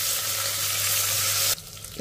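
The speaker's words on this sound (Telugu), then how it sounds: "ఇప్పుడు ఎండుమిరపకాయని కూడా 1 నిమిషం ఇలా కలుపుకుంటూ ఫ్రై చేసేసుకోవాలి మీడియం ఫ్లేమ్లోనే" Dry red chillies sizzle and fry in a pan over a medium flame, a steady loud crackling hiss close by that stops abruptly about halfway through, leaving quiet kitchen background.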